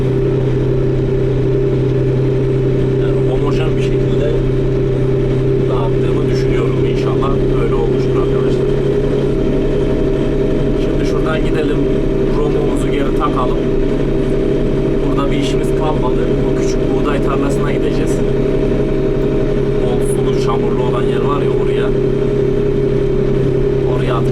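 A tractor engine drones steadily while it spreads base fertilizer across a field with a spreader machine. The low hum is loud and continuous and holds throughout, with faint rattles and clicks on top and no talk.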